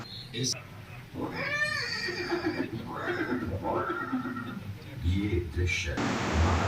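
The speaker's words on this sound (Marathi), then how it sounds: "हे दृश्य महाराणा प्रताप आणि प्रसिद्ध स्वामी भक्त चेतक घोड्याच्या शेवटच्या क्षणाची" A horse whinnies near the start at a Haldighati museum exhibit on Maharana Pratap, the whinny mixed with music and background noise, followed by someone speaking over dramatic sound.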